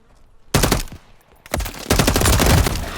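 Gunfire in a video game: one sharp shot, then after a brief pause rapid, loud automatic bursts rattling on continuously to the end.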